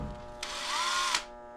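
A power tool in an abandoned, flooding quarry whirs in one short, loud burst of under a second, starting and stopping abruptly.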